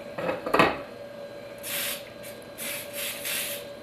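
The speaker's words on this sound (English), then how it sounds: "Then we're going to spray the top of it." After a couple of light clatters, an aerosol can of cooking spray hisses in three short bursts onto raw chicken, close by, with a faint steady hum underneath.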